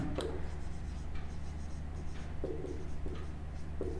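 A pen writes on paper, soft scratchy strokes and short taps recurring irregularly at close range over a faint steady background hum.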